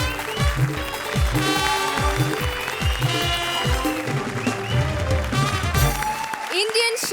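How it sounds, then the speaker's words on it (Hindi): Studio audience applause on a Hindi comedy stage show, a steady dense wash of clapping with rhythmic music beats and a voice running underneath, cutting off near the end. "एक बार फिर तालियां"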